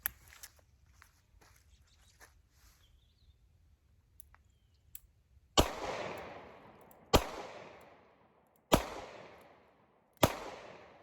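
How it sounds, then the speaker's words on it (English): Four loud, sharp gunshots from a Smith & Wesson M&P 340 revolver firing .38 +P rounds, evenly spaced about one and a half seconds apart, each ringing briefly outdoors after a stretch of quiet shuffling and handling noises. "So we're stepping up from a weak 38 to 38 plus P. Again, out of the M&P."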